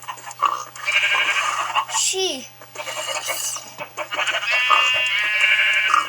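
Minecraft sheep and other farm animals bleat in short repeated calls amid a busy game soundtrack, with someone talking over them.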